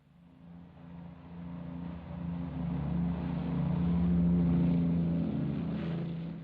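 Propeller aircraft taking off from the runway at Heathrow, London Airport, in the late 1940s: a steady engine drone with low tonal hum that swells and builds in loudness throughout, heard alone without talk.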